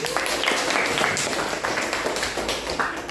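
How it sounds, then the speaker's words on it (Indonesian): Pupils in a grade VII informatics classroom clap for a classmate, a dense, steady patter of many hands lasting about three seconds at moderate loudness with no pause. "Tepuk tangan untuk Ananda Jepan."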